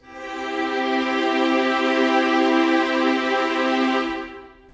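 A string section holds one sustained, swelling chord that fades in, stays full for several seconds and tapers off, heard alone as one part of a guitar, piano and strings arrangement.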